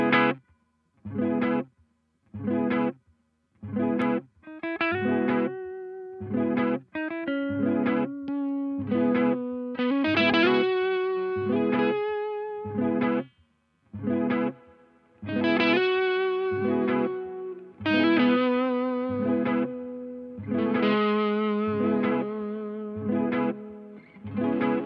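An electric guitar runs through a Danelectro Reel Echo pedal with a delay of about a second and a half. Rhythmic chord stabs and short phrases repeat in regular pulses and later blend into longer, overlapping echoed passages without speech.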